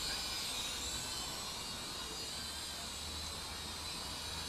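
A Syma X5SW quadcopter with a Wi-Fi FPV camera flies outdoors in calm air, giving a steady, even broadband whir and hiss that holds at a constant level throughout, with no talk.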